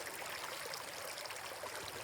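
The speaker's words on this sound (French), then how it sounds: "Le ruisseau émet un son parfait de clapotis." A small stream in a grassy wetland, its water lapping and trickling in a steady, even wash close by, with no voices.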